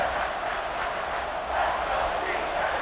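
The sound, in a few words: crowd cheering in College Football 26 video game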